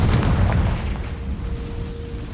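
The Confringo fire blast spell explodes in Hogwarts Legacy with a loud, deep boom that rolls into a rumbling tail and fades over a couple of seconds.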